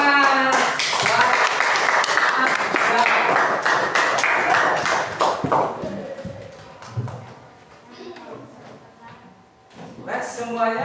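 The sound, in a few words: class applauding, clapping hands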